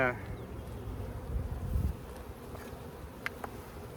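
Honey bees buzz around an opened hive being split, a soft steady drone that swells briefly then settles, with a faint voice at the very start and a couple of small clicks.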